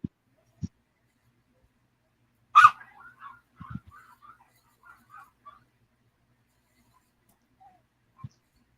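A puppy gives one sharp bark followed by a string of soft yips and whimpers, then scattered light knocks in an otherwise quiet room.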